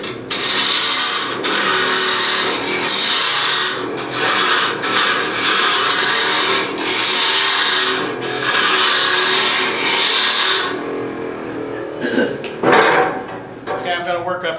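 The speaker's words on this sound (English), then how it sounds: "this is conventional spindle turning here" A wooden candlestick spindle-turned on a lathe, with a steady loud rushing scrape of the cutting tool against the spinning wood that breaks off briefly several times, then ends in softer intermittent scraping.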